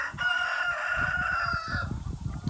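A rooster crows nearby in one long, drawn-out call while free-ranging chickens cluck and scratch around it in the background on Polyface Farm.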